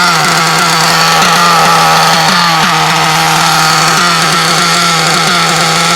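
A loud engine rumbles close by in a steady, throbbing idle with rough rhythmic pulses, and no voices are heard over it.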